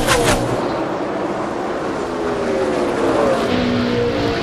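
NASCAR stock cars race at the Pontiac Excitement 400 in 2003, engines roaring loud and continuous as cars pass close. Pitch sweeps rise and fall as the cars go by, with no talking over the roar.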